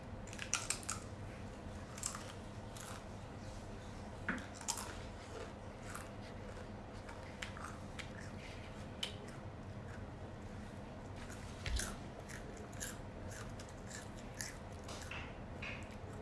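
Spicy prawn Mamee potato crisps bitten and chewed close up, giving a run of sharp crunchy snaps over a steady low background hum, with no talking.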